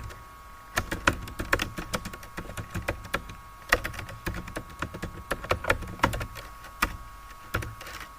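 Keys on a computer keyboard clatter in irregular bursts of quick clicks while text is typed into a word processor, close and fairly crisp with short pauses between runs.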